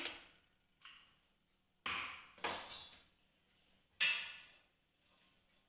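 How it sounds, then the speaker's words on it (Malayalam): A metal pan set down on a kitchen stove while making a bread-based evening snack, giving a few separate quiet clanks and scrapes in a still room. "പാൻ വെച്ച് കൊടുക്കാം"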